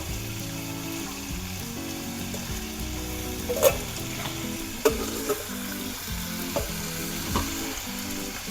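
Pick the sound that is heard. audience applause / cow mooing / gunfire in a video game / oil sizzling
oil sizzling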